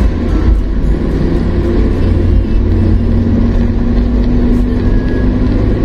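A truck on a rural road in drizzly weather passes with a loud, steady engine rumble and road roar that fills the whole stretch without a break.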